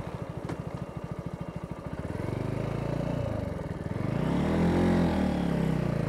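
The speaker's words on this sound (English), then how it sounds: "70 miles an hour, and this bike will top out about 80. It's going to top gear." A Mutt Mongrel 250 motorcycle accelerates through its gears at speed, the single-cylinder engine's rapid loud pulsing building into a rising roar that is close and heavy with wind.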